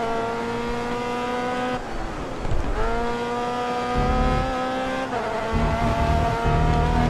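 Open-wheel race car in the racing game Grid Autosport, its high engine note holding steady then dropping sharply through downshifts around two and five seconds before climbing again, loud and close with no talk.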